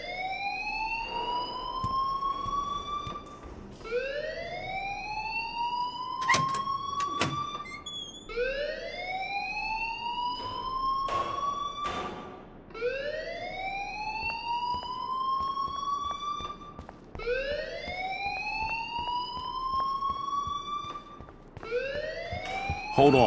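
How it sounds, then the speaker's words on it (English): Alarm ringing in the video game Life is Strange, a loud rising whoop that repeats every few seconds without a break, with faint voices and knocks underneath. "please turn off that alarm"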